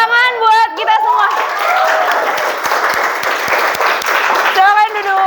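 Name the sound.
classroom applause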